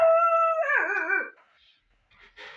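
A person imitates a wolf howling with a single close, rising-then-falling tonal howl, followed by a brief quiet pause and a faint breathy sound.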